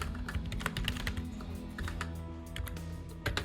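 Brisk, close typing on a computer keyboard as a prompt is entered, rapid irregular key clicks with a few sharper strikes near the end like the enter key, no voices.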